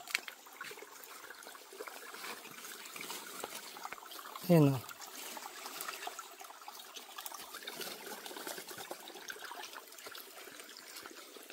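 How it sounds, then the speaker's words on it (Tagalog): A stream on a farm flows steadily, a constant watery wash and trickle spread evenly throughout, moderately near, with a brief louder splash or voice sound partway through and a short spoken word. "maririnig nyo na kaagad yung agos ng tubig"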